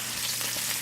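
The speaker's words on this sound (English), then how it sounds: "I've just added the asparagus to the pan that was already cooking" Asparagus added to a pan where shrimp were already cooking, giving a steady, close, even sizzle that fills the short moment alone.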